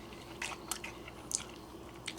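Crunchy freeze-dried red beans and rice are chewed close up, giving a few soft, irregular crunches and wet bites over a quiet background, with no talking.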